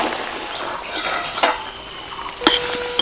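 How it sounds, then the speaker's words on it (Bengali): Metal lid lifted off a pot of drumstick vegetables (moringa) boiled about ten minutes, giving a soft scrape and then two sharp, close metallic clinks over faint kitchen background. "এবার ঢাকনাটা খুলে দেখবো"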